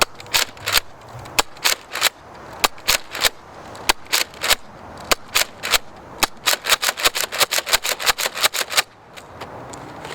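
Nerf Elite Rampage blaster firing foam darts, a run of sharp clacking shots loud and close, spaced at first and then rapid near the end as about a dozen darts go out, with no talking.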